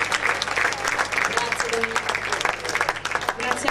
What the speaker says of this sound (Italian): fate un applauso alle due presentatrici, sono state bravissime